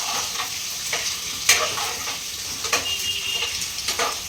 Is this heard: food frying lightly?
yes